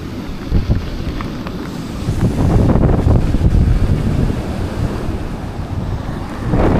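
Typhoon Uwan's wind and sea waves pound the shore at Dinahican, Infanta, Quezon, a loud, continuous broadband roar that surges midway and stays heavy with gusting rumble throughout.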